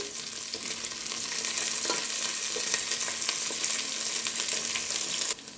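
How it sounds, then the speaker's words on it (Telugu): Chicken frying in a pan with onion, tomato and chili pieces, a loud, continuous close-up sizzle with faint stirring scrapes, ending in a sudden drop near the finish, with no voices. "కొన్ని ఉల్లిపాయ ముక్కలు, టమాటా ముక్కలు, మిర్చి ఇవన్నీ కూడా వేసుకొని ఇంకొంచెం సేపు వేగనివ్వాలి"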